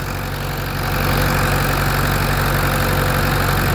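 A Case 400 gas tractor engine runs hard under load on a dynamometer, a loud, steady, dense mechanical roar that swells slightly and then holds throughout.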